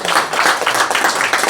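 Audience at a Korean political lecture applauding steadily, a dense wash of many hands clapping throughout with no voices standing out.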